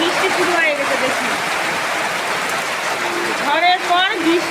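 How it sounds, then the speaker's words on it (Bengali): Rain begins falling after a storm, a steady broadband patter and hiss, with a voice talking over it at the start and again near the end. "বন্ধুরা বৃষ্টি শুরু হয়ে গেছে দেখুন"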